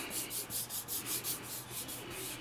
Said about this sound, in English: So I'm just gonna rub this on here.